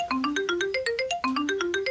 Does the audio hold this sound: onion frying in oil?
no